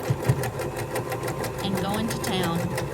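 A sewing machine back stitches a quarter-inch quilt seam in a steady, fast mechanical whir that runs the whole clip, with a voice talking over it.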